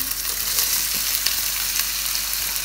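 Two medium onions, finely sliced, frying in hot oil, a dense continuous sizzle with faint stirring scrapes, close and steady throughout.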